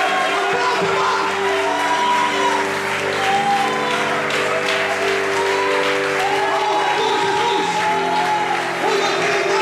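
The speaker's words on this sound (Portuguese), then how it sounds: "Você pode aplaudir o Senhor esta noite?" A church congregation at a Portuguese-language youth congress applauds and cheers loudly, sustained clapping mixed with whoops and shouts, while sustained music tones and a voice ring out over the crowd.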